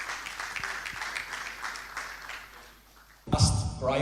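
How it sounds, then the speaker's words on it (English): Sustained crowd applause for Ghana's President John Dramani Mahama at the Jubilee House during a Czech presidential visit, a steady wash of clapping for about three seconds before a louder burst of sound near the end. "Let's keep the round of applause going as he takes his seat."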